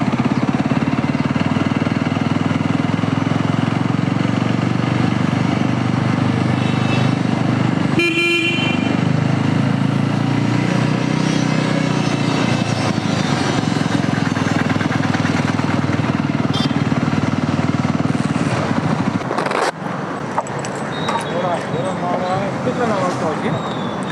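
A motorcycle rides along a road, its engine and wind noise making a steady, close roar throughout, with a few horn toots and a brief sharp burst near the end.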